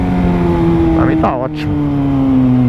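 A motorcycle engine holds a steady, moderate exhaust drone during a night ride, close and continuous, while someone speaks briefly over it.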